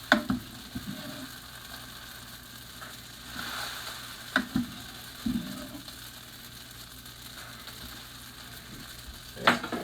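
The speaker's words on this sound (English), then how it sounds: "As you can hear the sizzle." Bacon and pasta for spaghetti carbonara sizzling in a pan, a low continuous frying hiss broken by scraping stirs and a few sharp clicks, fairly quiet and close.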